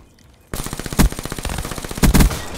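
Rapid automatic gunfire from a video game, loud and close, with evenly spaced bursts of shots and a few heavier blasts, no talk over it.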